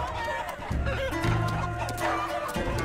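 Chicken clucking from the Chicken Man unit in the Totally Accurate Battle Simulator video game, repeated rapid clucks amid battle noise and a busy game soundscape, fairly close and loud.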